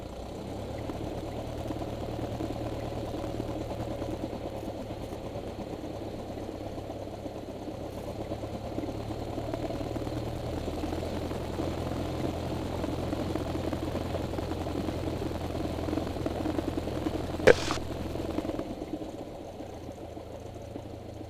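Small training airplane's engine idling steadily on the ground while taxiing to a parking tie-down after landing, a continuous low drone throughout with a brief sharp click near the end.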